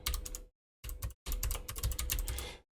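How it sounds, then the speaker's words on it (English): Rapid bursts of keystrokes on a computer keyboard while code is typed out, close and clear, with two short pauses between runs of clicking and no talking. "rather than copy paste it, we're going to go through and type it all out"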